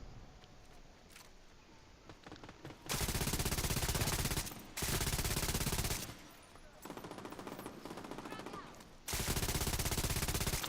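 Heavy automatic gunfire in The Division 2 erupts in long sustained bursts separated by brief lulls, loud and close, with quieter ambient combat noise in between.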